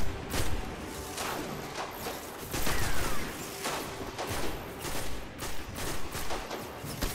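Gunfire from snipers in the shooter Destiny: Rise of Iron, sharp cracks and booming shots landing irregularly over several seconds in a dense, noisy battle mix.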